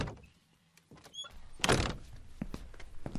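A front door swings open and shuts with a solid thunk and some rattling, close by and fairly loud, with faint creaks and shuffling before it.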